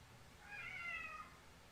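A single drawn-out meow from an annoyed cat wanting food, fairly faint and slightly distant, heard alone over a low room hum.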